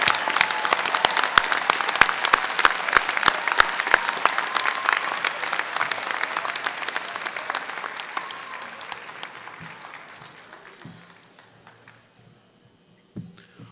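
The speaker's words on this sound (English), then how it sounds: "Join me in applauding the graduates of the Division of Health and Natural Sciences." Commencement audience at a county college applauding graduates, loud dense clapping with some sharp close claps, gradually dying away into near silence with a few last scattered claps.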